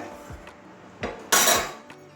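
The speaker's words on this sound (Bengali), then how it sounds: "আবারও ঢাকা দিয়ে দিচ্ছি দু মিনিটের জন্য" A metal lid is set onto a pot of moong dal with Malabar spinach: a few light metallic clinks and scrapes, then one louder clattering clang that rings briefly before fading, with no talking.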